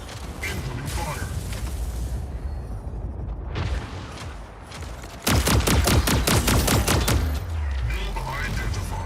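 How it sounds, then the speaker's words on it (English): Mech combat gunfire in Mech Arena, with heavy mechanical clanks and booms followed by a loud, rapid burst of repeated shots in the second half, plus scattered game voices. "Incoming fire"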